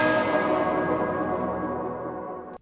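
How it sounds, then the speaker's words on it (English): A rich, sustained church bell sample in a hip-hop beat made in FL Studio, with dense ringing overtones, decays slowly over a couple of seconds, then cuts off abruptly with a click. "This is a church bell that I mixed with a part of the sample"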